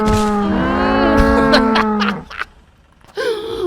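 A cow in the video game ContraBand Police gives one long, loud, close moo that trails off, followed by a short pause and a brief second vocal burst.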